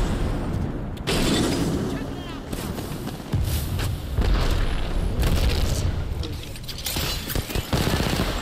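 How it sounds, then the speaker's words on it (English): A frag grenade goes off in a video game amid a noisy firefight, heavy booms and bursts of gunfire landing repeatedly and loudly over several seconds, with voices shouting over the combat. "Grenade out! Frag grenade set."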